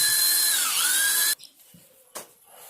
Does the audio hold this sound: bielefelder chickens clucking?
no